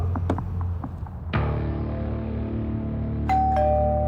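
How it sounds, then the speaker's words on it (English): A doorbell chimes once with a ringing tone, then a second bright chime sounds shortly after, clear and close against a low background hum. "The doorbell rang, but when Brian answered it"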